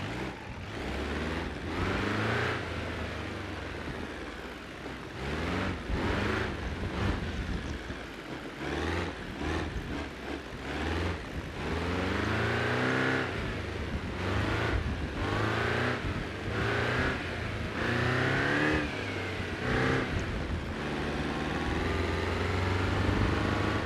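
A car engine in BeamNG.drive revs and shifts repeatedly while driving, pitch rising and falling through gear changes, loud and steady with no talking.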